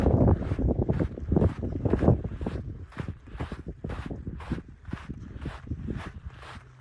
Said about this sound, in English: This walking in sand is a first for me.